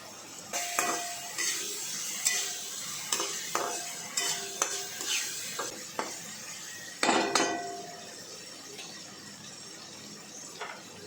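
Egg kothu parotta is stirred and chopped in a pan, with repeated rhythmic metal clanks over a steady frying sizzle, close and fairly loud, no voices.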